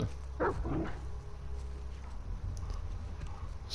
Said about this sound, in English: This dog better not come out onto the balcony.